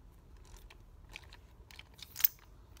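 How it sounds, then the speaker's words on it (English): A repaired, previously jammed vintage Craftsman torque wrench ratchet clicks quietly in a short series of faint, irregular mechanical ticks, with one slightly sharper click near the end. "I've got the ratchet working properly now"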